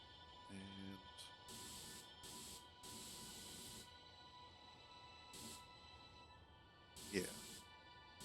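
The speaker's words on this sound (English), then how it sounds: "I'm just going to go ahead and spray paint my ship real quick" Spray painting a ship in the video game Space Engineers, out in open space. Several short hissing bursts of spray come one after another, each lasting about a second, over a faint electronic hum.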